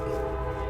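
A train sound effect plays as a steady, dense rumble with a sustained horn-like tone held throughout, loud and continuous with no voices.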